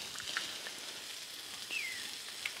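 Onions sautéing on a Blackstone griddle set low at about 340 degrees, giving a steady, quiet sizzle with faint crackles and a brief scraping sweep near the end, no voices.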